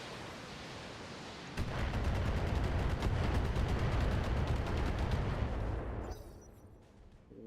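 Mech weapons open fire in the BattleTech game as a sudden, dense burst of rapid gunfire and explosive booms, loud and sustained for several seconds before cutting off into a quieter rumble.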